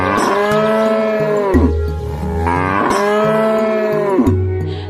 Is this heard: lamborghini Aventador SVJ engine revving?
no